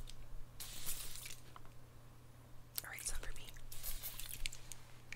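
Cooling face mist sprayed in an ASMR makeup session: a couple of soft hissing spray bursts, close to the microphone and gentle, with quiet whispery sounds between them.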